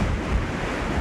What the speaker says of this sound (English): There's a lot of movement of water, there's a lot of power in each wave that comes through.